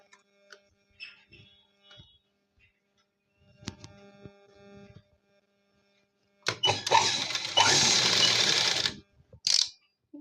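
Sewing machine stitching the pieces of a blouse, a loud steady mechanical run of rapid stitches for about three seconds after quieter handling sounds, followed by a short final burst.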